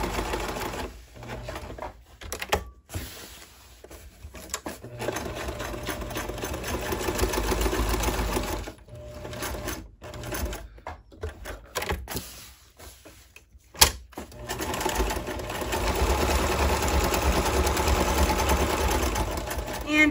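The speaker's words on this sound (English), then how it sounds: "it is a really basic and easy sewing" A sewing machine stitches a banana leaf placemat in bursts of rapid mechanical chatter, with short pauses between runs and a voice talking quietly at times.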